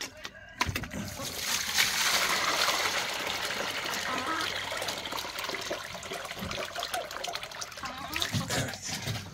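Water pours out in a steady, close trickle and splash, continuous for several seconds with a few sharper splatters near the start and end, no talk over it.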